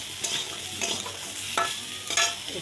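Mango pieces fry with mustard in a pan, with a steady sizzle under repeated spatula stirs and scrapes that come at short, uneven intervals, close and clear with no talk.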